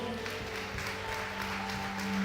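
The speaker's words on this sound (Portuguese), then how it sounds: "Você pode aplaudir ao Senhor." A church congregation applauds, a brief, even wash of clapping that holds steady over a low electrical hum.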